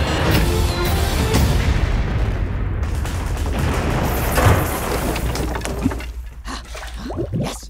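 A rumbling explosion sinks a battleship in an animated Addams Family scene, with dense booming blasts and roaring debris that build and then trail off into scattered splashes and crackles, loud and continuous without talk.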